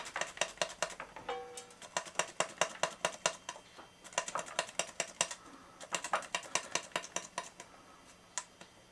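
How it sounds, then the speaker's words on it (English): A handheld slicer cuts raw squash in rapid, crisp repeated clicks and chops, close and steady in fast bursts with brief pauses, with no talking. "So you just take it and just slice your squash up just like that."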